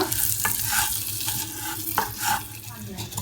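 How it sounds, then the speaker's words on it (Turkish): Sugar stirred and caramelizing in a pan while cooking a Turkish rice pilaf with plenty of vermicelli, with a steady close sizzle and frying hiss and rhythmic scraping strokes of the spoon. "Şekerlerimiz kavruldu arkadaşlar. Rengi karamelize oldu."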